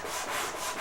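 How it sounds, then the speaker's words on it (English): Wooden round casings for the circular windows of a temple being sanded by hand, a close, steady rubbing scrape of abrasive on wood in smooth back-and-forth strokes. "shaping and sanding the round casings that hold the circular windows near the top area of the temple"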